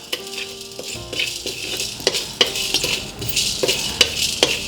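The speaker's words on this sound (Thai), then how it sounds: "เอามาคั่วก่อนนะครับ คั่วด้วยไฟกลางไปทางอ่อน ให้พอมีกลิ่นหอมครับ" Coriander seeds, black peppercorns and cumin dry-roasting in a pan over medium-low heat, with a soft dry rattle and scrape of stirring and occasional light clinks of a utensil against the pan.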